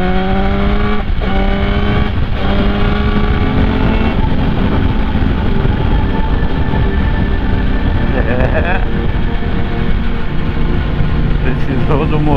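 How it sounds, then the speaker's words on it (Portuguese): A motorcycle engine revs hard while overtaking on a winding mountain road, loud and sustained, with the pitch climbing and shifting and wind noise throughout. "Precisou do motor para ultrapassar, a gente chamou o motor!"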